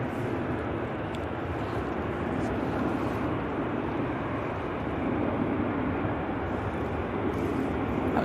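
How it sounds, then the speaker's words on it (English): An EasyJet airliner departs Manchester Airport bound for Prague, its engines a steady, broad roar heard from some distance throughout, with no voices over it. "That was the EasyJet to Prague."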